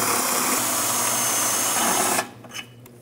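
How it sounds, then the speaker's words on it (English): A power drill drilling out a rivet on a 2006-2011 Cadillac DTS runs loud and steady at close range for about two seconds, then cuts off, leaving faint clicks. "You can drill that one out."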